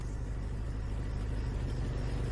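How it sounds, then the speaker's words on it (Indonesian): A loud, noisy vehicle engine rumbles steadily throughout, a continuous low idling drone with no voices. "samar dari jauh terdengar suara kendaraan yang cukup berisik."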